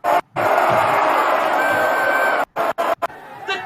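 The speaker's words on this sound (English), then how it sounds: "The crowd has gone frenetic in ecstasy." A football crowd at a Sahani Cup final match in Odisha roars loudly in sustained cheering, cut by a few sharp drops near the end, with excited voices and chatter in the mix.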